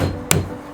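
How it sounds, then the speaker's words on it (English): A single sharp hammer strike tacking a nail through the tongue of a wooden flooring board, a short crisp knock close up against quiet room noise. "I'm just going to tack nails"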